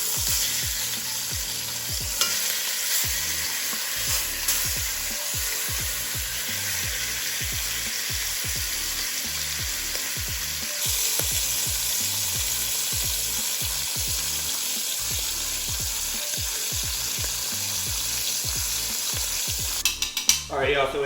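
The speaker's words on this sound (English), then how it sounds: "I'm gonna do 3 first, then I'll add the other 2, that way we get a nice sear." Short ribs sear in a pot for a Dr Pepper short rib dish, giving a steady, close, continuous sizzle with occasional stirring clatter throughout, with no talking.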